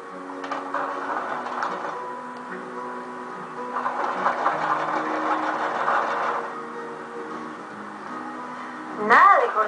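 A sewing machine stitching over a seam on a backpack runs in a steady mechanical whir that speeds up in the middle stretch and then settles, close and continuous, ending with a brief louder burst.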